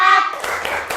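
Children in a classroom clap in a short chant, with a few sharp hand claps following a brief spoken cue.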